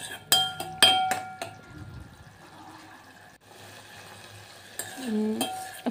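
Tamarind pulihora rice mixture being stirred in a frying pan: a few clinking metal-spoon strikes against the pan at the start, then soft scraping and sizzling, with more clinks and a brief rattling near the end.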